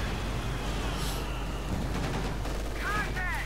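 Machine gun bunker with MG upgrade firing in Company of Heroes 2, a steady wash of gunfire and battle noise with chirping effects near the end, no clear separate bursts.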